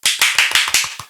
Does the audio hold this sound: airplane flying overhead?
no